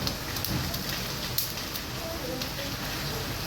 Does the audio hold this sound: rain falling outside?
yes